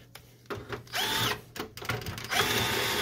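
A power driver whirs in short repeated bursts while backing screws out of a Samsung CLP-365W color laser printer during disassembly, close and loud with brief gaps between pulls.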